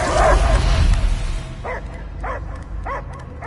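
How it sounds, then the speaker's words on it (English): Dog barks in the Marvel's Guardians of the Galaxy video game, a few separate yips and barks spaced about half a second apart, following a burst of rumbling, noisy action. "I hear only barking"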